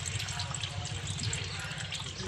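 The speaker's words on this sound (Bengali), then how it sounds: "তো এইটুকু জল দিয়ে দিলাম," Water pours into a pot to be heated while making soap from orange peel, a steady close splashing flow that runs unbroken for a couple of seconds with no talk.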